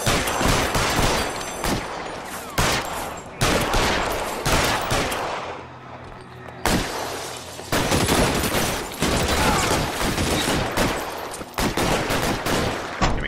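Rapid bursts of gunfire and machine-gun fusillades from the LA Noire video game crack loudly and repeatedly, dropping off for a short lull midway before resuming in dense volleys.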